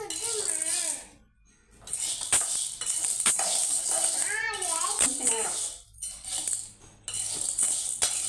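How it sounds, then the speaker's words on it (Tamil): Chana dal roasts in a dry pan with a dense, steady rattle of lentils, while a voice and other talk run over the top with brief pauses. "கடலப்பருப்பும் சவுண்டு வந்துடுச்சு"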